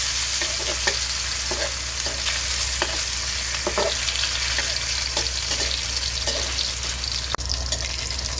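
Dila-dila fries for breakfast with a constant close sizzle, broken by repeated light scrapes and stirs and a low steady hum beneath, no voices.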